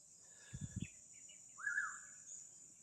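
A faint bird call rings out in a quiet outdoor setting, a short rising-falling whistle with a few soft chirps, steady insect hum behind.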